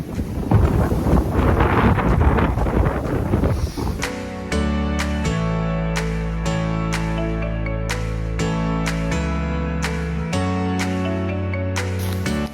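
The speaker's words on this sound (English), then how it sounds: "You probably can't hit anything I'm saying because it's so windy" Strong, cold outdoor wind buffeting a microphone rumbles loudly for a few seconds before giving way to music with steady notes.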